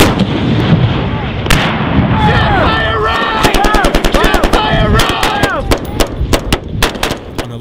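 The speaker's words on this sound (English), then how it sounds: "On a live fire training mission near Forward Sweeney, these U.S. and Afghan National Army troops conduct one of their last joint training missions" U.S. and Afghan National Army troops fire machine guns on a live fire training mission near a forward base, loud close bursts of rapid shots repeating in quick succession, with voices briefly heard under the gunfire.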